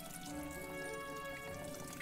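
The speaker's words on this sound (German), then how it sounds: "jetzt kann ich alle Flaschen mit Wasser füllen" Water being poured to fill bottles in the farming game Everdream Valley, a steady soft trickle running about two seconds over quiet game ambience with background music.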